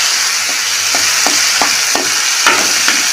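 Tomato frying in a pan for a vegetarian Bengali potol (pointed gourd) curry, a loud continuous sizzle with light periodic scrapes and taps of stirring, no voices.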